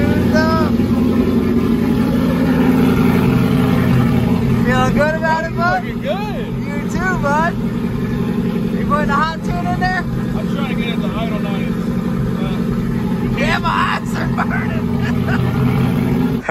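Ford Crown Victoria engines idle high on a steady low rumble at a Bristol NASCAR bank-turn drift event, with people talking over the constant drone throughout.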